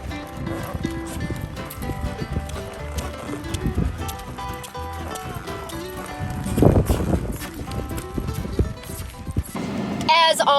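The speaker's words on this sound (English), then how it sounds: "I had so much fun out here riding horses." Horse hooves clip-clop during a horseback riding lesson, a steady rhythm of near hoofbeats over music and outdoor noise, with a voice heard now and then.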